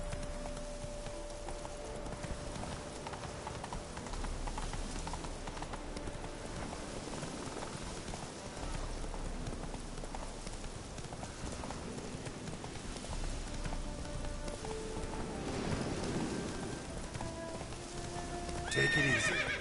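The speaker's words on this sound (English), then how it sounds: "Spooking my horse." Roach, Geralt's horse in the video game The Witcher 3, neighs and whinnies while hooves clop steadily, set against a soft rain hiss throughout the scene.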